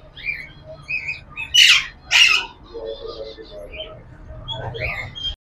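Pineapple conure parrots at a Sunday bird market let out two loud, harsh squawks amid fainter chirps and chatter, with someone talking nearby.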